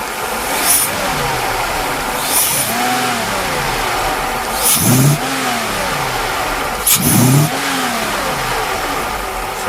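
Twelve-cylinder car engine running after a fuel distributor rebuild, a steady idle broken by three or four rising and falling revs, loud and close, with no talk.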